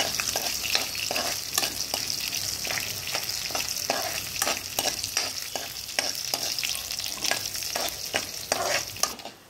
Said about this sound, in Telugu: ఎల్లిపాయ కూడా పచ్చివాసన పోయేంతవరకు కలుపుకోండి.